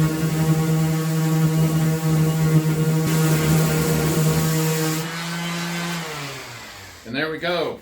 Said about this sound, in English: let's go on to the slightly older, but still just as good random orbital sander.